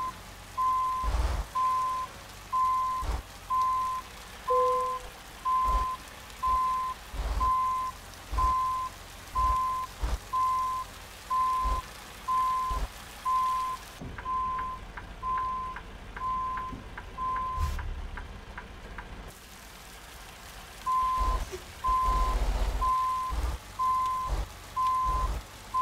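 Western Star 57X truck in American Truck Simulator sounding its reversing alarm: steady evenly spaced beeps repeating for most of the stretch, pausing briefly before resuming, over low engine rumble and patter like rain, with no talking.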